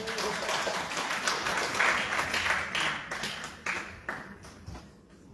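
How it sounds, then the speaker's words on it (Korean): Audience at a Jeju Democratic Party academy lecture claps for the provincial party chairman, a scattered round of applause that thins into a few isolated claps and taps near the end. "위원장님 한 번 더 큰 박수 부탁드리겠습니다"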